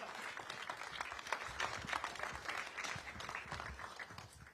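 A crowd applauds at a Vivek Ramaswamy speech event, with steady, dense clapping that holds at an even level for several seconds, with no talking over it.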